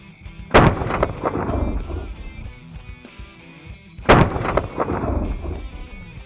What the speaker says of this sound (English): There's definitely a little more kick on this gun.